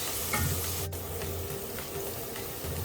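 Cashews fry in ghee in a pan for coconut milk rice, making a continuous close sizzle with soft crackling and occasional stirring clicks, and one sharp tap partway through, with no talk.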